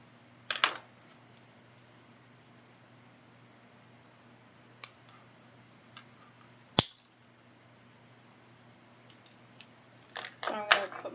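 A PTFE tubing cutter snips through PTFE tubing in a quiet room, giving a few sharp, isolated clicks spread apart, with a cluster of snips and handling noises near the end.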